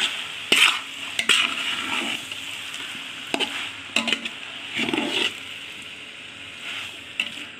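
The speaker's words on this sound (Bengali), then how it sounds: "এইভাবে মশলাটা একটু ভেজে নিই" Ground spice masala frying in a pan for a Holi vegetable biryani, with soft steady sizzling and several sharp stirring scrapes and utensil knocks against the pan, close and moderately loud, no talk.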